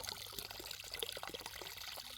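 Irrigation water carrying DAP fertilizer runs into a cotton field in a steady, close trickling pour that stays at an even level throughout.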